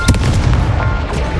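A Confringo blasting spell explodes in Hogwarts Legacy: one loud, close, booming burst that rumbles briefly before fading.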